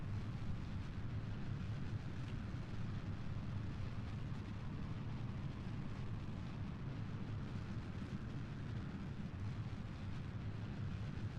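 Rocket engine roaring at increasing thrust in Kerbal Space Program, a loud, steady, dense low rumble that holds without a break for the whole stretch, with no talk over it.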